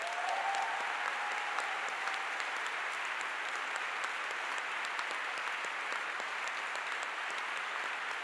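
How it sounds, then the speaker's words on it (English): An audience claps for volunteers at a political assembly in Brussels, dense and steady applause from a large hall crowd that holds an even level throughout with no talk. "they deserve the biggest round of applause of the night"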